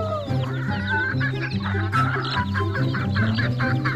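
Chickens and ducks on a farm cluck and squawk continuously in a close, busy flock, overlapping calls forming a lively, steady chatter with no voices.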